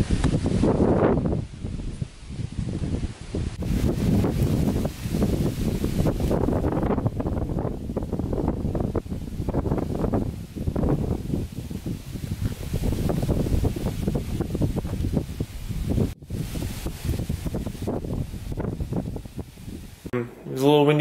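Wind blows outdoors during a car front lip install, roaring and buffeting against the microphone in continuous gusts for the whole stretch.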